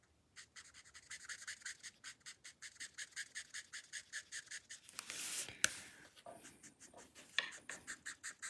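A brush nib pen strokes across paper while shading the bottom of a springtime Pegasus background drawing, making a steady run of soft, close scratchy swipes in an even rhythm, with a brief rustle near the end.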